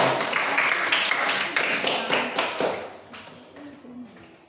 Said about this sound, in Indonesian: tepuk tangan untuk Ilma.